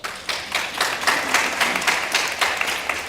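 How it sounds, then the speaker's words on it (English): Scattered clapping from an audience member at a women's circle session of an annual convention, a few uneven claps rising over the room's ambience for about three seconds, fairly close, with no talking. "Someone was clapping."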